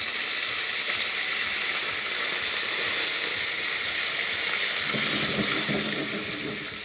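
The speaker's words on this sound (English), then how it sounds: "I'm adding some water, and I'm gonna put a top on it" Steady broadband sizzle of water added to a hot frying pan over a turned-down flame on a home stove, hissing loudly and evenly throughout with no talking.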